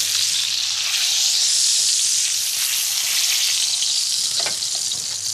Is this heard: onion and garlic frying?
yes